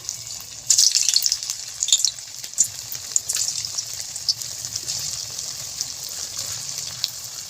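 Boiled-potato snacks fry in hot white oil, making a continuous close crackling hiss that swells briefly as more pieces drop in, then settles into an even sizzle with no voices.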